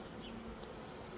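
Honeybees buzzing at a hive that is releasing a lemongrass-scented pheromone, a faint, steady insect drone held evenly throughout with no speech.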